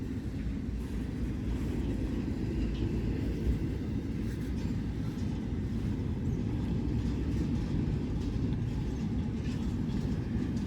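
A long Norfolk Southern freight train passes close by in Vermilion Township, Ohio, with a continuous heavy rumble and light clickety-clack of wheels over rail joints, steady and loud from start to finish.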